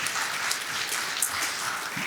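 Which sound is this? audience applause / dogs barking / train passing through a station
audience applause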